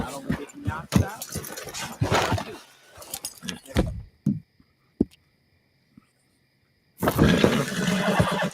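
A horse neighs in Red Dead Redemption 2, a loud broadband whinny arriving near the end after game dialogue and a quiet gap, with talk and other game sounds earlier.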